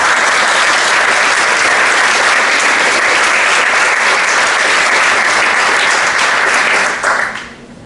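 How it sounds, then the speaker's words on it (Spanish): A large seminar audience gives loud, sustained applause that holds steady for about seven seconds and then fades quickly. "por eso les pido un caluroso aplauso y agradecimiento"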